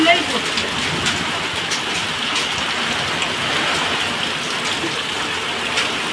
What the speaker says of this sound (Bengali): এত বৃষ্টি হচ্ছে, মনে হচ্ছে যেন কোথাও ধোয়া দেওয়া হয়েছে, সাথে ঝড়।